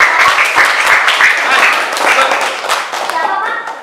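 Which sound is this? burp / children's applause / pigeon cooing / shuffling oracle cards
children's applause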